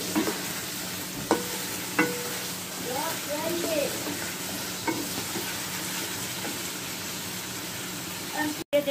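Chicken fries with onions in a pan as a steady sizzle runs under occasional spatula scrapes and soft clicks at close range, with a brief clatter near the end.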